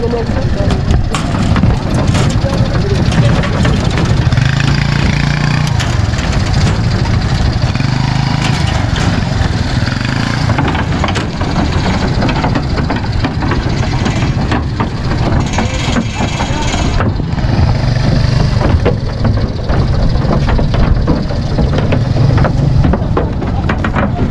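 A trawler boat's engine drones on a baor lake at Jhapa, Monirampur, Jessore, running loud and continuous throughout, with voices talking over it.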